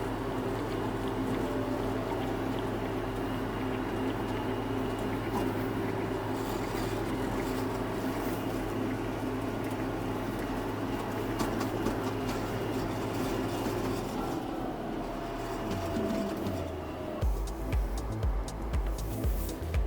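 A steady, droning John Deere 6800 tractor engine hum runs throughout with a low rumble, shifting and becoming more uneven near the end.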